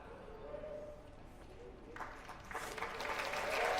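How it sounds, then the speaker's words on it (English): Conference attendees at a school garden summit break into applause, starting sparse and quiet under ambient room noise, then swelling into fuller clapping over the last two seconds. "That's worth an applause."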